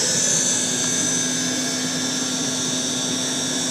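A 1940s Eureka Roto Matic Model 800 vacuum cleaner runs steadily close by, a soft continuous whoosh with a faint steady hum underneath and no change in level.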